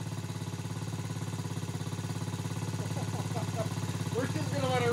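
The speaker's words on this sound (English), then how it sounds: "It is idling a little high." A TaoTao 110cc ATV engine idles slightly high with a fast, even chugging pulse, running continuously and fairly close, with a faint higher whine creeping in toward the end.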